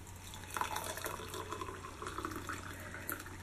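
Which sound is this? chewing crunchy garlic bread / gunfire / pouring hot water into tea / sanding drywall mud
pouring hot water into tea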